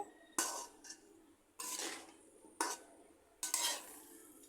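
A crab and taro stolon curry stirred in a pan with a little water, four distinct scraping strokes of a spoon against the pan, fairly quiet with soft sizzling between them.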